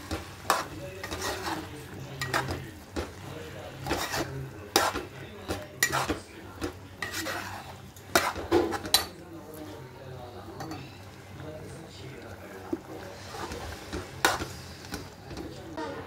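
Drumstick curry with a Malvani masala paste is stirred in a pan, giving irregular metal scrapes and clinks over a low, soft sizzle, with a few louder knocks against the pan.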